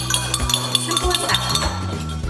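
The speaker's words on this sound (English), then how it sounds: "And about a teaspoon of honey. And then you're just gonna stir it up." A metal teaspoon clinks repeatedly against a glass while stirring honey into a drink, with quick, bright taps in an irregular rhythm and a voice talking underneath.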